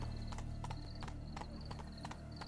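Horse hooves clip-clop at a steady walking pace in the video game Witcher 3, with a sharp repeated beat over a constant low background hum and no talk.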